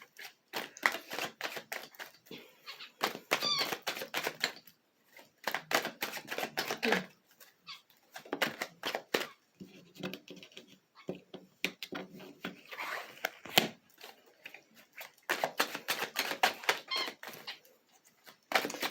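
Tarot cards being shuffled and drawn from a deck, quick papery riffles and snaps in uneven bursts with short pauses, close to the microphone, with someone talking at times.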